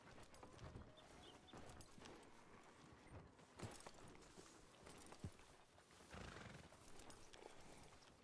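Horse hooves clip-clop at a walk with a neigh in Red Dead Redemption 2 roleplay, fairly quiet, along with other soft footsteps and background ambience.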